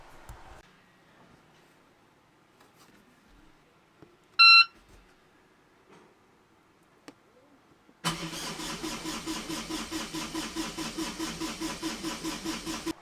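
A 3-cylinder engine, with suspected glow plug trouble and weak batteries, is tried for a start: near-silence, then one short electronic beep, then loud, steady, rhythmic cranking and engine churn that continues without pause to the end.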